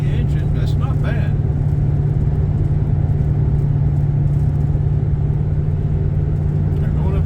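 A 2500 pickup truck with a 350 engine and 4-speed transmission pulls uphill in second or third gear, a steady loud low engine drone from start to finish, with someone talking over it.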